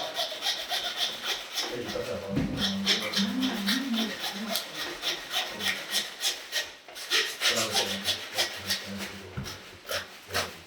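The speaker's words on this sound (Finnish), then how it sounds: "Nyt sillä sahalla se poikki" Rhythmic back-and-forth rasping of a hand saw cutting through the bone and meat of a deer carcass, close and steady, with someone speaking briefly over it.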